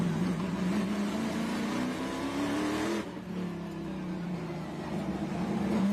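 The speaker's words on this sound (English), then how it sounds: "You're watching Music City roar to the sound of muscle cars." Trans Am TA2 muscle cars racing at a Nashville street circuit, a loud sustained engine roar with one car's pitch climbing before a short dip and another engine note taking over.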